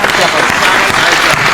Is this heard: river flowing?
no